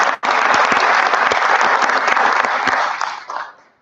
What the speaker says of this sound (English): How about one more round of applause for all three of them?